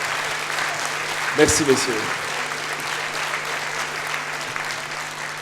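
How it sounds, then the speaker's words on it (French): Audience applause at a music hall show, a steady wash of clapping throughout with someone briefly speaking over it partway through. "Encore plus fort des applaudissements, s'il vous plaît."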